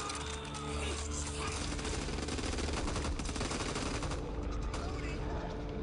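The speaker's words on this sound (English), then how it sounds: "Assault rifle here." Assault rifle fire in the zombie shooter game Back 4 Blood: dense, continuous rapid gunfire bursts layered with game noise and chaotic action, loud and unbroken throughout.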